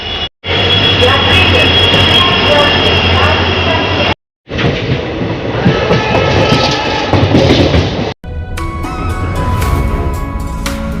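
A passenger train rumbles steadily along the rails, loud and close, with a continuous roar broken by two brief cuts and a brighter clattering stretch near the end.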